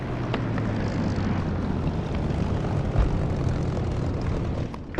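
An aircraft engine drones steadily through a takeoff in the DCS flight simulator game, a constant low roar with broadband rush, even in loudness and without voices.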